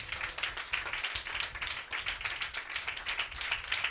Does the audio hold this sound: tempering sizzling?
no